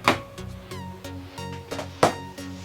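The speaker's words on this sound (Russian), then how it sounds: "Вытаскиваем аккумулятор." Battery being pulled out of a Canon EOS 350D DSLR camera, with a series of close plastic clicks and short handling knocks spread over a few seconds and one sharper snap near the end.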